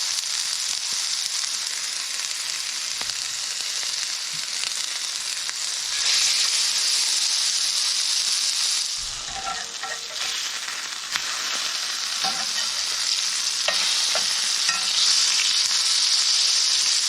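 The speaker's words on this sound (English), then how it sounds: "Voila, a little rabbit sausage patty. Gonna see how it cooks up now." A small rabbit sausage patty sizzles steadily in a frying pan, a continuous close, bright crackling hiss with brief pops, with no talking.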